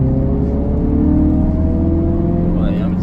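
An Audi TT's engine drones steadily from inside the car as it climbs a winding hill road at moderate speed, with a constant low hum and a faint rising whine near the end.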